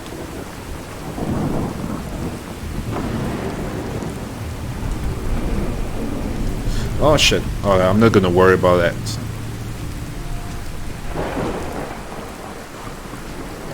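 A heavy thunderstorm with steady pouring rain and rolling thunder fills a modded Fallout 4 game world, loud and constant, while someone speaks briefly over it.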